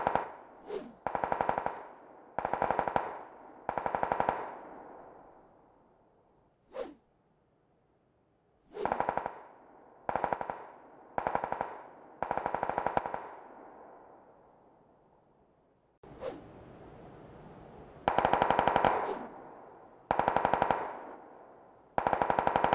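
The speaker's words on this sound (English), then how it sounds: "So next up, let's take a look at mid-range gunshots" Mid-range machine gun fire in the PUBG video game on PC, roughly 200 to 300 meters away, comes in repeated short bursts of rapid rattling shots. Each burst trails into an echo, with silent gaps between bursts.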